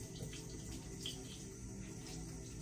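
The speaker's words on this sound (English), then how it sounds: "So you just rinse it off with water" Tap water running steadily at a sink, rinsing a sonic facial brush after a facial treatment; a faint, continuous splashing hiss with no voices.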